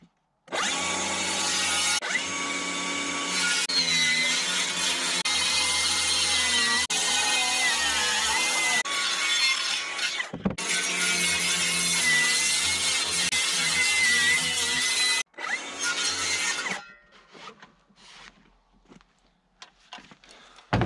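A power saw makes a rough cut in wood during carpentry work on a 1966 Mustang chassis swap, a loud continuous grinding whine broken by brief pauses before it stops and faint clatter follows.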